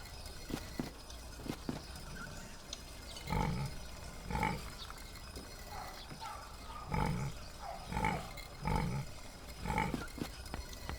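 Pigs grunting and oinking in the video game The Dark Eye: Chains of Satinav, a series of short low grunts repeating irregularly at moderate loudness over a soft ambient background.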